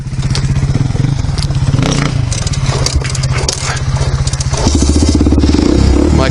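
A motorcycle engine runs loud and close throughout, with a steady low throb, scraping and clattering, then a shift in pitch near the end as the clutch is let out and the revs change.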